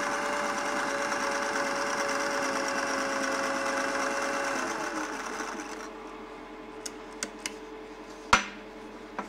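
A sewing machine zigzag-stitches along a boat trailer strap for a 1977 Polarkraft jon boat, running in a fast, steady whirring rattle for several seconds before stopping, followed by a few sharp mechanical clicks and a clunk.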